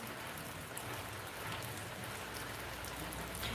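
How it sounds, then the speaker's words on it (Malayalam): Steady rain falls continuously, a dense even patter of drops on surfaces, moderately close and unbroken throughout. "മഴ മാത്രമേ ഉള്ളൂ, ഒരേ മഴയാണ്"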